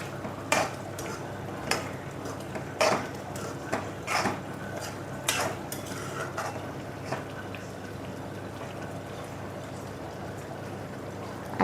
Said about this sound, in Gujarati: તો આ સ્ટેજ ઉપર આપણે 8 થી 10 પનીરના ક્યુબ કરેલા છે જે અંદર નાખી દઈશું